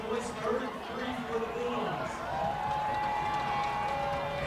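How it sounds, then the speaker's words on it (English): Panther fans in the pit crew section roar at a Georgia high school football game, Murphy Bulldogs against Union County Panthers, a steady dense crowd noise of shouting and cheering heard from a distance under a commentator's voice. "Panther crowd, the pit crew makes some noise as we feel optimistic."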